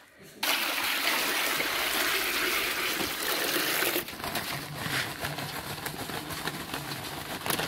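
Chillies being dipped and swished in a container of water, a sustained sloshing, trickling wash that drops to a softer, choppier splashing partway through, with no talk.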